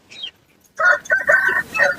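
A rooster crows nearby at a poultry market, a short strained call breaking into a loud, harmonic crow.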